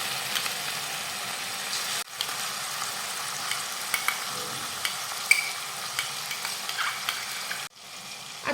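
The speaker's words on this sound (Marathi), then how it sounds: "कांदा तेलावर व्यवस्थित परतून घेऊया" Onion paste frying in hot oil with cumin, a loud, continuous, crackling sizzle that runs almost the whole time, with two brief dips in level and scattered small pops.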